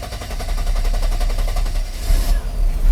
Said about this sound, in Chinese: 大哥来做个引擎发动。